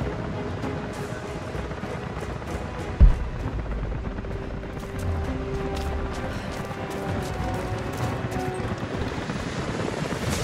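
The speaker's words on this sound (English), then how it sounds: "helicopters are headed your way" A helicopter in the Rise of the Tomb Raider video game drones steadily with a continuous rotor chop throughout, one brief thump near the start and faint crackling in the background.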